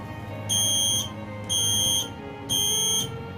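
Kidde P4010LDCS-W smoke alarm with escape light sounding during a test, giving three loud, shrill, evenly spaced beeps of about half a second each over a low background hum, with no talking.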